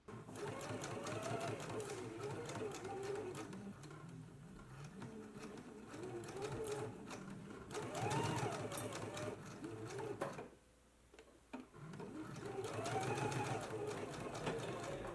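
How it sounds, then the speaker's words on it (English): A home sewing machine stitches along the seam line of a girls' dress, running in steady bursts with a brief pause before resuming, close and clear. "And now we can go ahead and stitch along the stitching line."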